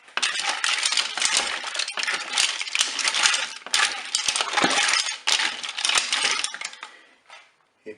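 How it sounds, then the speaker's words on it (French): Mussels being stirred back into a saffron sauce in a Cookeo pot, with loud, continuous clattering of shells scraping and clinking against the pot and each other. "Je vais replonger mes moules dans la sauce. Je vais mélanger tout ça."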